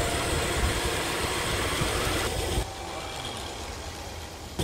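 A homemade electric scooter driven by drone motors produces a steady, loud broadband whirring roar while accelerating toward its top speed, then drops to a quieter hum partway through.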